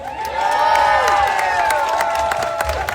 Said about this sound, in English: please keep clapping for Kendra and Hannah.